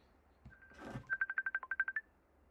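A phone set to do not disturb rings once: a brief faint tone, then a quick run of about ten evenly spaced electronic pulses, heard alone in a quiet room.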